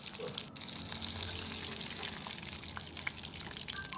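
Eggs sizzle as they fry and are stirred in hot oil for an egg curry, a faint, steady crackling hiss with occasional small pops and scrapes, with no talking.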